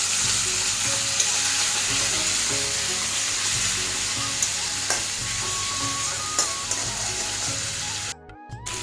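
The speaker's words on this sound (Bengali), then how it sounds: "দিয়া একটু ভালো করে এটা নাড়াচাড়া করে দেবেন।" Ginger, garlic and onion paste is stirred as it fries in a pan, making a dense, steady close sizzle with scraping stirs throughout and a brief clatter near the end, with no voices.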